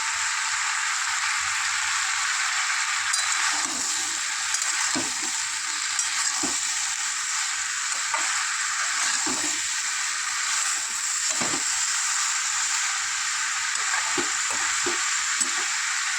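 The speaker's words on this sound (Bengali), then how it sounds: "এটা মশলার সাথে নেড়ে নেব।" Bottle gourd with shrimp and spices is stirred in a frying pan, a steady soft sizzle broken by scraping strokes of the spatula at irregular intervals, close and without talk.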